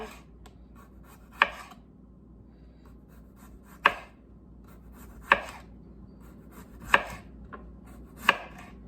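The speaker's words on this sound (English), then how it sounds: "I'm going to go ahead and cut a couple of these up, thinly sliced." A knife slices through raw skin-on potatoes on a cutting board, five sharp, evenly spaced chops about every one and a half seconds with soft scraping between, close and fairly quiet.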